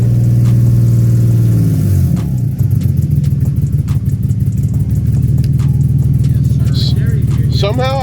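An Infiniti G35 engine running, starting with a steady low drone and then settling into a rougher, pulsing idle with some clattering revs, close and loud, with people talking over it.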